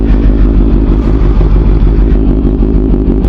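Kawasaki ZH2 motorcycle engine idling steadily after a cold start, a loud, close, even rumble with a dense low throb and faint clatter, no talk over it.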